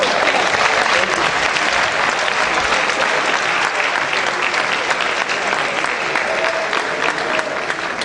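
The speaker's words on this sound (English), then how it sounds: "Thank you for that round of applause." Sustained audience applause at the close of a university lecture on professionalism, a dense steady clapping crowd filling the room for about eight seconds with no speech over it.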